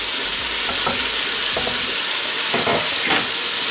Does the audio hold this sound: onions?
yes